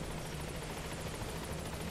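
A helicopter in the Metal Gear Solid 5 video game, its rotor giving a steady, dense whirring roar that holds at an even level throughout.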